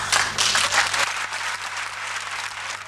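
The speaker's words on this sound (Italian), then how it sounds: "sentirlo applaudito da voi" An audience applauds, with a full burst of clapping at first that fades to a softer, thinning patter, while a low steady hum runs underneath.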